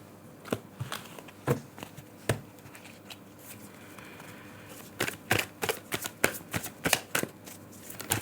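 Tarot cards are shuffled by hand in a series of crisp riffling and slapping bursts. The bursts come sparse at first, then quicker and denser, close and fairly loud, with no voices.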